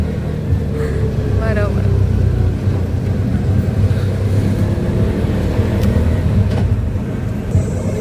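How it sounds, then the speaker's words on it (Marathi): Steady engine drone and road rumble from inside an auto rickshaw heading to a ground after the family car broke down, continuous throughout with a brief spoken word over it. "आता आम्ही रिक्षामधून चाललोय ग्राउंड"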